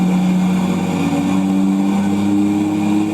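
A street race car's engine roars continuously at high revs on a dyno, loud and close, a steady sustained drone with no talking.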